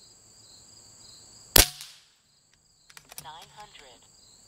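A single sharp report from an Umarex Zelos air gun, loud and close, followed by a short decay, then quiet with faint chirping and a few light clicks afterward.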